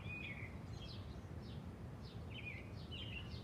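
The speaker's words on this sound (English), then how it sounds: "keep listening to the birds singing" Birds chirp and sing outdoors in a short series of faint, high calls spread across the moment, with a soft background hum beneath them.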